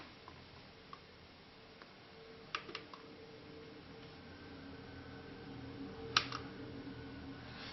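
A knife slices thin pieces from a FIMO polymer clay cane, producing a few faint, sharp ticks and taps scattered over a quiet, hissy background.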